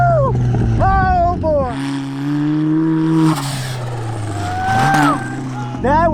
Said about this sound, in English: I'd been eyeing this jump on the ATV track for a long time and decided today was the day to send it